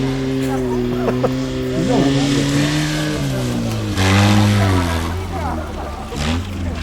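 Car engine revving and driving at the Skaryszew auto moto show 2016, with harmonic pitch that rises and falls across several throttle swells, heard under steady nearby crowd talk and chatter.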